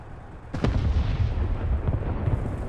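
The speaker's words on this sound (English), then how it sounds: "artillery doesn't sound very convincing from inside the tank" Artillery fire in War Thunder heard from inside a tank: one sudden deep boom followed by a rumbling low roar that lingers, muffled and heavy, with no speech.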